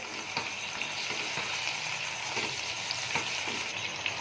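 Green chili and ginger paste frying for chicken karahi, a steady close sizzle with soft scraping stirs at intervals, no voices.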